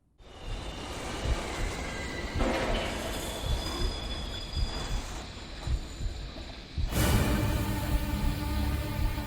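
A train in a rail-shooter section of the video game Infernal, with steady rolling rumble and clattering rail noise that grows louder after a sharp burst about two-thirds of the way through.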